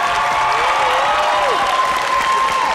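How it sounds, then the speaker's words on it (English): Dense, steady applause fills the room from a crowd at a high school songwriting master session, with a faint whistle-like tone sliding over it, though distinct cheering is hard to make out. "A nice round of applause again for Jason."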